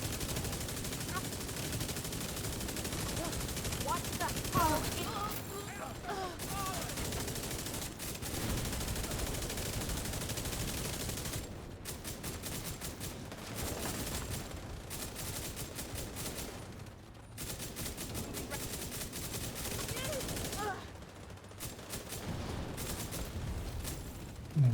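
Rapid video game gunfire, tapped bursts of shots repeating steadily across the stretch at moderate, fairly distant level amid dense battle noise, with faint talk underneath.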